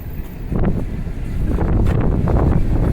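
Steady wind buffets the microphone outdoors while someone walks through cold winter streets in Halifax, a continuous low rumbling roar that swells louder in the second half, with no talking.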